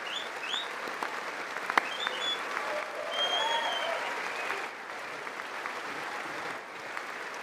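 Steady applause fills a large chamber at a State of the Union address, a sustained dense wash of clapping from a big crowd, fairly distant, with a few brief whistles and faint voices mixed in.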